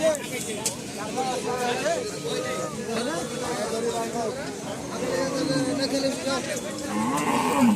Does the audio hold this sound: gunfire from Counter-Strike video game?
no